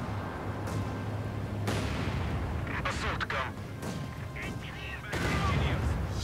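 Mortar and artillery fire in the Company of Heroes 2 multiplayer strategy game, with repeated booming blasts and rumbling impacts over a sustained battle din, while players talk over it.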